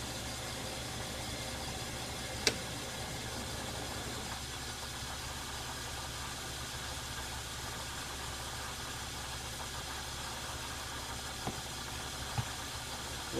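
A metal lathe turning at 65 RPM while cutting a spindle guard nut: a steady, even mechanical hum and drone holds throughout, with a couple of sharp isolated clicks, and no talk.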